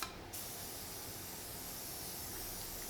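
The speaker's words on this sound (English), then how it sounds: "I'm just using WD-40 as my lubricant." WD-40 sprayed from an aerosol can onto engine cylinder walls before honing, a continuous close steady hiss that starts sharply after a brief pause.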